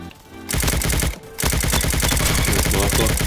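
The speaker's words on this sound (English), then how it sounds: "hit us some fat shots there" Rapid automatic gunfire in the Roblox shooter Bad Business, loud and close, rattling in fast continuous bursts with a brief pause before the firing resumes and holds steady to the end.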